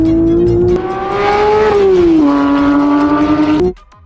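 A Porsche GT3 engine revs loud and close while driving, a steady high-pitched wail that climbs, dips, and climbs again over about four seconds before cutting off abruptly.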